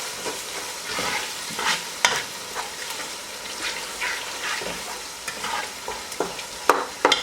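Ginger-garlic paste and green chillies sizzle in hot oil while a spoon stirs them in a pan, giving soft scraping strokes and occasional sharper clinks over a steady low frying hiss.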